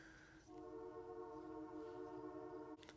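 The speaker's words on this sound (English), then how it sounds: "What is up with the train when I'm always trying to record?" A train passes outside, heard indoors as a steady, moderately loud rumble with a sustained horn-like harmonic drone lasting several seconds and a brief click near the end.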